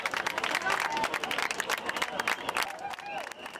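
A crowd at a street demonstration claps and cheers, dense steady applause with scattered voices calling out, fairly close and continuous under some speech.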